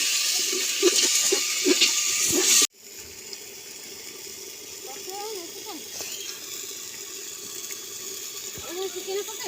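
Water poured from a container into masala for a homemade chicken curry, a loud gushing splash for under three seconds, then quieter kitchen clatter and room noise.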